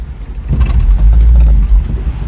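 Engine of a 1977 Honda Civic CVCC wagon economy car, a loud, close low rumble that swells after a moment and holds steady, with a deep throb underneath.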